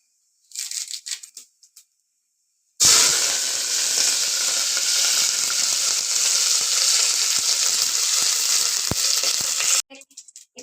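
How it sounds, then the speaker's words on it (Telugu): Curry leaves hit hot oil already spluttering with mustard seeds, setting off a sudden loud, close burst of sizzling that holds steady for about seven seconds and then stops abruptly, with a few faint crackles before and after. "ఇప్పుడైతే కరివేపాకు వేసుకుందాం."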